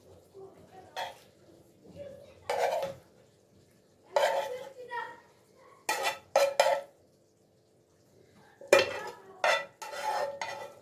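Spoon scraping and clinking against a dish while prepared chicken is portioned onto sauced tortillas for chicken tacos, in short separated bursts of clatter with quiet gaps between them.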